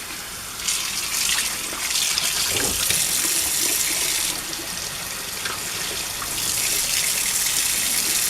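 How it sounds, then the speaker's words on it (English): Water runs steadily from a kitchen tap while a pot is rinsed, a continuous close splashing gush that shifts slightly in tone as the stream hits the metal. "Now here, let me rinse this off."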